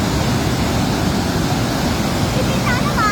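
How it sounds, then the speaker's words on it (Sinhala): Overflow water pours from the Randenigala dam in a loud, continuous roar of rushing water, with a voice briefly speaking over it near the end. "ඔය කී කොච්චර වේගයකින් වතුර වැටෙන්නේ නැද්ද නේ?"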